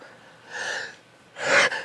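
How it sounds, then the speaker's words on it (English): A sharp, breathy intake followed by a loud explosive sneeze burst near the microphone, with no other sound around it. "Oh, sneeze time, but no, I didn't try to block that sneeze."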